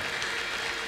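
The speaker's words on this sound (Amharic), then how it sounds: "አጨብጭቡ ከዚህ በላይ።" Church congregation applauding during a worship service, a dense, steady wash of clapping filling the whole moment with no distinct individual claps standing out.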